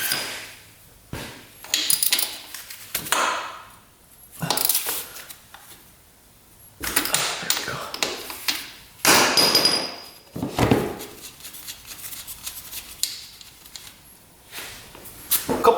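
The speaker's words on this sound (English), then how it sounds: "All right, let's crack that bolt free." A wrench cracks free the drain bolt on a 2-stroke dirt bike that has sat for over 15 years, giving irregular bursts of metallic clanks, knocks and tool rattles close by, with quieter pauses between.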